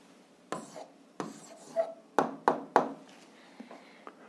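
A pen writing an answer by hand on paper during a seventh-grade algebra lesson, a series of short scratchy strokes and taps, fairly close and quiet, with no talk.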